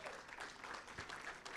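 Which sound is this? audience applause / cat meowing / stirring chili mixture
audience applause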